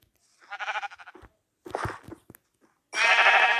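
Several synthetic-sounding Minecraft sheep bleats in separate bursts, the last one long and loud, with quiet gaps between them.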